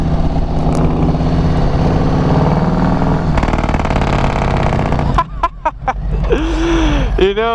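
A Harley-Davidson Softail with a Milwaukee-Eight engine and Bassani True Duals exhaust idles loudly with a deep, lumpy rumble that fills the clip. The sound thins out near the end, where other brief sounds and voices come in.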